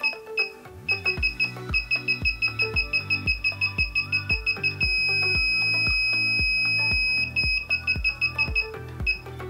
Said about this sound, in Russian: срабатывает парктроник как визуально показывает расстояние к препятствию, так и со звуковым сигналом